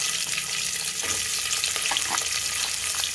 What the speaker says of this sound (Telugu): ఉల్లిపాయలు, పచ్చిమిరకాయలు, సేమదుంప ముక్కలు రెడీగా పెట్టుకొని, తిరగమాత వేగిపోగానే దానిలో వేసుకోవాలి.